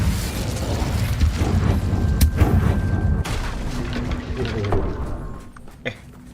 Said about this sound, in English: And then cast a fire. Incendio.